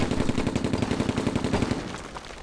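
Rapid automatic gunfire from the Silent Storm video game rattles in a dense, loud burst of many fast shots that runs for about two seconds before tailing off.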